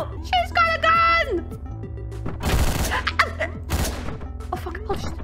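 Gunfire in the video game Hotline Miami, with two loud, sharp bursts cutting through excited talk and game sounds.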